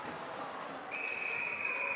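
A referee's whistle sounds at a girls ice hockey game, a single steady shrill tone starting partway through and held over crowd and rink noise.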